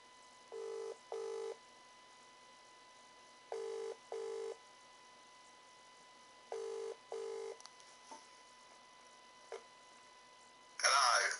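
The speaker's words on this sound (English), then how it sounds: "Wait, let me phone him." Telephone keypad tones beep in short paired bursts at intervals as a phone number is dialed, clear and close, followed by a brief burst of ringing or line noise at the end.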